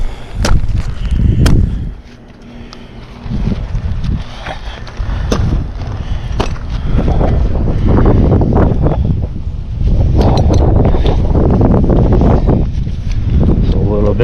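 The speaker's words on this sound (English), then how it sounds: "It's a little bit windy up here" Wind gusting around a climber perched high in a tree, a steady loud rush that builds and holds, with occasional sharp knocks and someone talking now and then over it.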